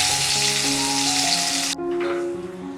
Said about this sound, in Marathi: आता हे जे आपण मॅरिनेट करून मशरूम ठेवले होते ते मी यामध्ये घालत आहे